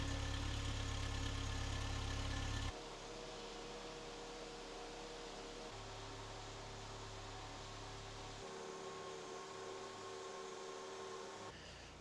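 A project car engine idles steadily while warming up to temperature after years of sitting, a low continuous hum with a louder stretch at the start that settles into an even drone.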